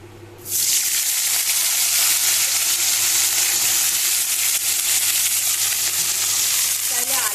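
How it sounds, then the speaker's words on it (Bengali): Cauliflower florets dropped into hot oil with a spice paste of turmeric and cumin, bursting into loud, steady sizzling frying that carries on evenly after the sudden start. "এবার এর মধ্যে আমি এই ফুলকপিগুলো ভেজে নেবো"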